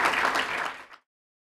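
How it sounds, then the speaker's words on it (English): Audience applause at the close of a talk on women's economic empowerment: a burst of many hands clapping together, fairly loud and dense, fading out after about a second. "So I'm sure you all give a big round of applause"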